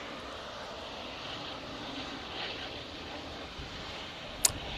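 An EasyJet airliner arriving from Alicante at Manchester Airport, a faint, steady engine roar heard from a distance, holding evenly with no voices over it.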